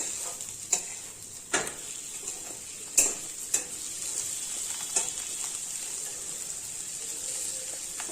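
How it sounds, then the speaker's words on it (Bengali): Okra is stirred and fried in a pan for a Bengali bhindi chorchari, a soft even sizzle punctuated by a handful of sharp spoon clacks against the pan, close but fairly quiet, with no one speaking. "তারপর ভালোভাবে নেড়েচেড়ে একটু কষিয়ে নিয়ে"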